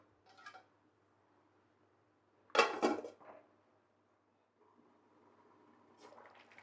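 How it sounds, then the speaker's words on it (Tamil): A metal lid is set onto a pot of pumpkin halwa, giving a single loud clatter midway, with faint scrapes and light clinks before and after in a quiet kitchen. "மூடி வச்சுக்கலாம்."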